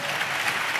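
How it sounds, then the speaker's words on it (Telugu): A church congregation claps together during a sermon, producing a brief, dense wash of steady applause at moderate loudness with no voices standing out. "చప్పట్లు కొడుతూ స్తోత్రాలు చెప్తారు"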